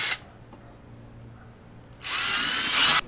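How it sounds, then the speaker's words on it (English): A power drill bores holes into a plastic milk crate for a heavy-duty kayak fishing rig, whirring briefly at the start, then a quiet pause, then a louder sustained drilling burst near the microphone. "So let's drill the holes."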